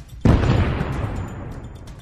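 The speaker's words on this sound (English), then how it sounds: "The explosion rocked the ground and shattered the windows of the cars parked nearby" A stick of dynamite blasts near a churchyard with a sudden loud boom, then a long rumbling decay that fades over about two seconds.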